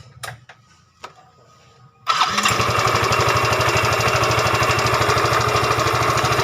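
A Yamaha Fino 125cc motorcycle engine starts after a few faint clicks, then runs steadily with a loud, rough, rapid idle chug that stays close and continuous to the end, with no talk.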